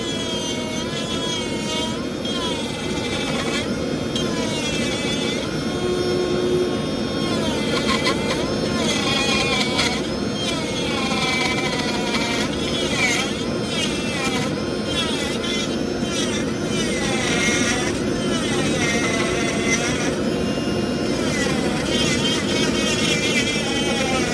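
A Ryobi USB lithium rotary tool carving wood runs wide open at full speed, giving a steady, loud high-pitched whine that holds level throughout with no pauses.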